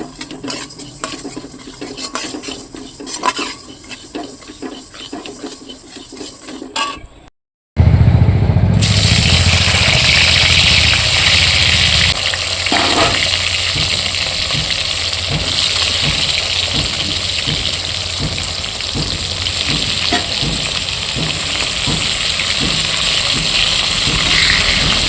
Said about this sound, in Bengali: এই যে মুগ ডালটা ভেজে নিচ্ছি।